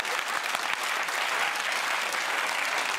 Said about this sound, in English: And the applause was deeply patronising.